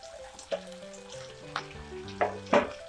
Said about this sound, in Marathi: मी 2 मिनिटं असं परतून घेतलेलं आहे